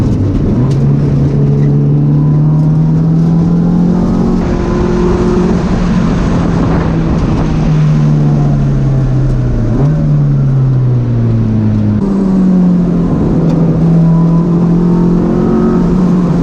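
A loud car engine revs and accelerates continuously, pitch climbing through gears with brief dips at shifts, heard from inside the vehicle.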